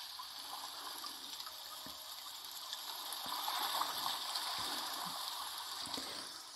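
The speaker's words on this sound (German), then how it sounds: "Das Wasser plätschert so vor sich hin." Gentle river water babbles and trickles steadily at a moderate distance, a continuous soft wash with occasional small splashes, no voices present.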